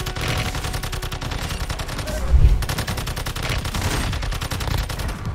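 TAC-56 rifle fire in Call of Duty Warzone Mobile rattles in fast continuous bursts over dense game noise, with a heavy low thump partway through.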